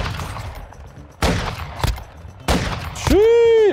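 Gunfire in the mobile shooter game Warzone Mobile: several loud close shots in quick bursts, followed by a ringing tonal game sound at the end.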